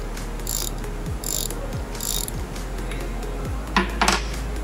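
A socket wrench loosens the solenoid valve stem on a York DXS screw compressor with a series of clicking and ratcheting strokes, several metallic squeaks and short scrapes up close, set against a constant loud low machinery hum.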